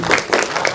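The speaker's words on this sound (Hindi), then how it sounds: "एक बार जोरदार तालियों से हमारे" Loud audience applause at a Lucknow poetry event marking Atal Bihari Vajpayee's birthday, a short dense burst of clapping close up.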